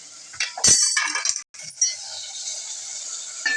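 A metal lid clinks onto a pot of cooking sambar vegetables with a sharp rattle, followed by a softer clatter and a quiet hiss.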